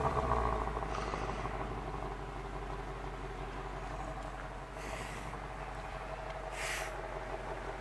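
A Ford Mustang V8 engine idles with a deep, steady rumble and low pulsing exhaust burble, continuous throughout with no talking.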